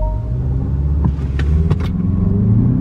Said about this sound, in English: I'm gonna try to activate launch control for you guys.